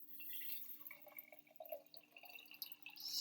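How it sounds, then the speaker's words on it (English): Water poured into a mason jar holding sprouting seeds, a faint, close trickle and splash that rises and falls irregularly, quiet, with no talk. "So I got my seeds in there, and now you just add water."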